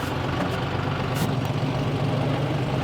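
Tractor engines in a farmers' protest convoy rumble steadily as they creep forward, a continuous low idling drone with no pauses, close and fairly loud.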